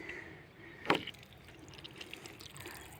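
Water runs from a tap in a farm field, a faint steady wash with one brief louder splash near the start.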